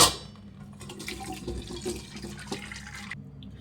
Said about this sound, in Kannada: ಒಂದು ಪಾತ್ರೆ ಇಟ್ಬಿಟ್ಟು ಸ್ಟ್ರೈನರ್ ಇಟ್ಬಿಟ್ಟು ಈ ನೀರೆಲ್ಲ ಬಸ್ಕೊಳ್ಳೋಣ